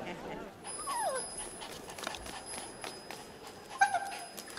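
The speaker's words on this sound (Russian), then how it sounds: "Кити, иди сюда, моя собачка хорошая." Small dog whimpering with a couple of brief high yips, faint and fairly close, under a busy indoor scene of murmuring voices in a period drama setting.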